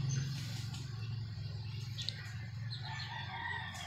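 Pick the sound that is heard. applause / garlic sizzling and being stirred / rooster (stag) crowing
rooster (stag) crowing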